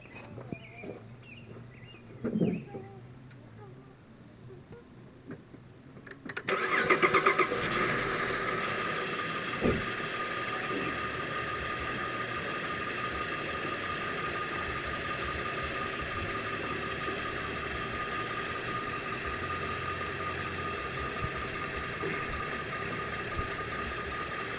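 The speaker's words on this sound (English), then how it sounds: "So we've got the engine running here" Chevy Traverse engine cranks over and catches, then settles into a steady idle with a constant hum and faint ticking, close by, no talking.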